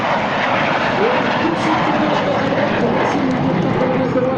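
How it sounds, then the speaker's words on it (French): Aerobatic patrol airplanes flying overhead in formation at an air show, a loud steady engine roar with drifting pitch that fills the whole stretch, while an announcer talks over it. "Regardez, les 4 avions se mettent sur le dos en même temps."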